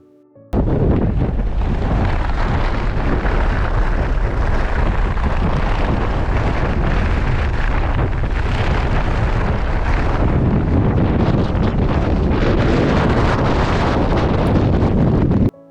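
Strong wind roars steadily across a Norwegian mountain, buffeting the microphone loudly and continuously with no voices.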